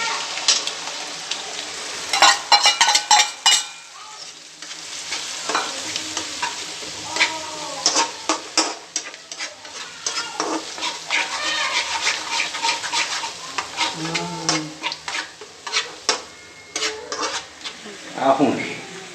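Onion-tomato paste for paneer curry frying in a pan, an uneven sizzle broken by frequent clattering stirs and scrapes of a spoon against metal, with people talking over it.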